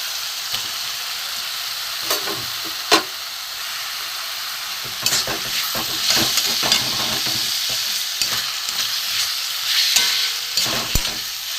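Boiled banana flower is stirred and sautéed in hot oil in a pan for a mung dal curry, with a continuous sizzle broken by scraping stir strokes and occasional clinks close by.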